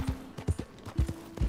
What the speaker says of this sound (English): Galloping causes horse stamina to drain.